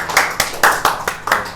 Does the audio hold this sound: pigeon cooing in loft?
no